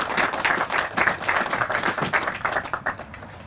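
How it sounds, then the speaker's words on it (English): An audience at a public works groundbreaking ceremony claps for a few seconds, a dense, lively burst of applause that gradually thins out toward the end. "So please give a round of applause to Assembly Majority Leader Joe Morelli."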